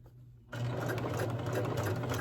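A sewing machine runs a 5/8-inch seam through red and white quilt pieces, starting abruptly after a brief quiet moment and then whirring steadily and close at an even pace.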